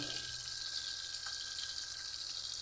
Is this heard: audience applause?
no